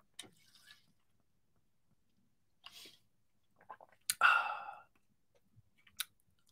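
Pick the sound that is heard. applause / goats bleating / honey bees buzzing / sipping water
sipping water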